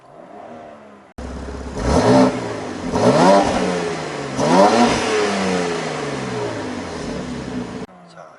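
A 2020 BMW X3 M engine revs sharply three times in quick bursts with the exhaust flap closed, its exhaust rumbling loud and close between revs, with a voice speaking briefly at the start.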